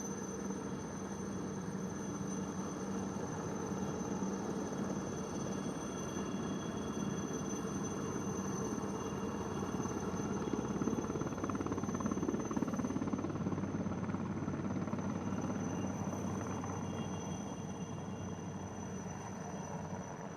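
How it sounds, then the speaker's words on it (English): Military helicopters perform spot turns at a beating retreat and tattoo ceremony, a steady, distant rotor and engine drone that holds at an even level throughout with no talk over it. "the helicopters carried out spot turns, quickly changing their direction 360 degrees twice"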